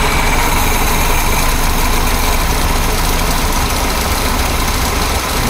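A 1976 BMW 2002 engine idles at around 1,000 RPM after the carburetor idle mixture is adjusted, giving a loud, steady, close rumble with no talking.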